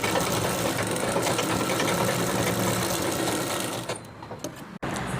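Sewing machine running fast and steady, stitching the hem of a kurta sleeve, a close, even mechanical whir that slows into short bursts and stops near the end.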